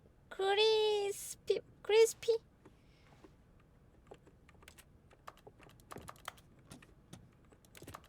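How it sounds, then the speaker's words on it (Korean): Button presses in the video game The Stanley Parable: a string of soft, sharp clicks and taps, faint and irregular, following a short burst of voices at the start. "버튼 누르는 소리가 나"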